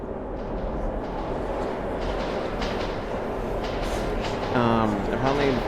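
A train rumbles through a tunnel in the video game Metro, a dense low roar with faint clatter throughout, joined near the end by a voice speaking over it.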